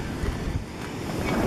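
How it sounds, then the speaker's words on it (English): Strong wind blowing outside a house, a steady broadband rush with low rumbling gusts that holds throughout at moderate level, with no voices. "It is so windy outside."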